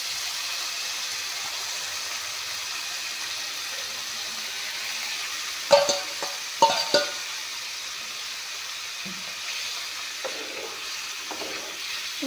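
Pointed gourd and bitter gourd fry in a pan with a steady soft sizzle and hiss, broken by a few sharp clatters of stirring about midway.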